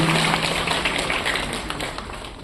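An audience applauds at a Gandhi Jayanti celebration at SKICC in Srinagar, with dense, steady clapping that carries on evenly and tapers slightly toward the end.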